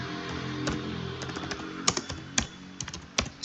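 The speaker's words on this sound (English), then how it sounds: "start our conversation by typing hello buddy." Someone types on a computer keyboard while demonstrating a business chat tool, producing a steady run of close, crisp key clicks with a few louder taps.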